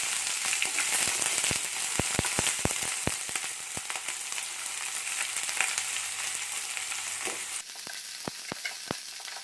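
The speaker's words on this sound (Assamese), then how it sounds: "তেজপাত দুখিলা ফ্ৰাই হৈ যোৱাৰ পিছত মই ইয়াত কাটি থোৱা পিয়াজ দি দিছো" Sliced onions fry in oil with two bay leaves, crackling with a steady close sizzle broken by sharp, irregular pops throughout.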